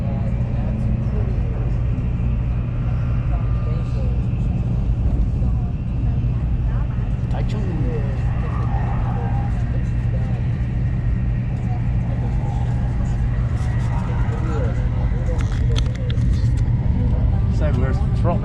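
A train in Taiwan throttles up and accelerates, a low steady engine rumble building gradually from inside the carriage, with people talking quietly over it.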